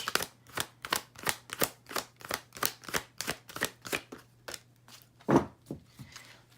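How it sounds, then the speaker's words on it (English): Rapid tarot card shuffling in repeated crisp bursts, a steady run of riffles close to the mic with a louder flutter near the end, no talking. "I'm really sorry if the shuffling's loud"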